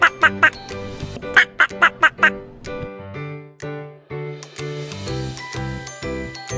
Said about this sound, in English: This is duck.